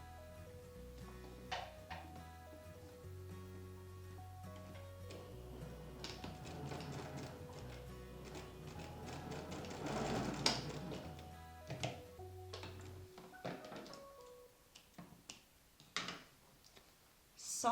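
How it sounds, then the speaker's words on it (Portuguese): Sewing machine stitching fabric for a small trapezoid zip pouch, a soft low mechanical whir in short runs with light clicks and taps between them, quiet and close. "para fechar só uma parte aqui com a máquina, tá? Então, vou passar uma costurinha aqui bem perto"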